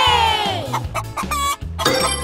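Chicken clucking in a guess-the-animal game, a run of quick close clucks over a repeating musical backing, with a loud rising call at the start and end.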